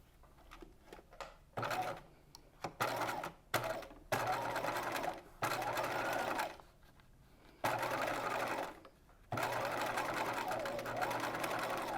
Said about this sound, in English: So the ditch you're stitching in is right here where you first sewed on the binding.